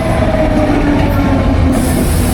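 Train rolling along rails in Budapest public transit, a loud, steady close rumble with grinding wheel noise and a faint squeal, no talking.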